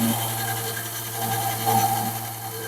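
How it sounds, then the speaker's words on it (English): A power drill bores through a balsa dowel, a steady close motor whine with a constant hum and slight changes in load as the bit cuts through the soft wood, with no talk. "So that's all of the bits of balsa drilled through."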